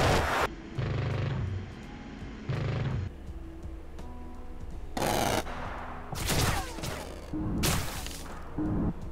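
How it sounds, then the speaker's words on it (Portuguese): Su-25T attack jet cannon fired in the DCS flight simulator, heard as several loud, short bursts of rapid gunfire with sharp impacts, separated by brief pauses over a steady engine hum. "Para usar o canhão do SU-25T ainda no modo de ataque ao solo, pressione o botão C do teclado."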